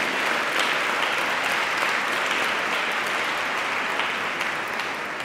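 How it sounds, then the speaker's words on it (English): Sustained audience applause from a crowd at a women and girls' training event, steady and dense clapping throughout with no voices. "Let's give them another strong round of applause."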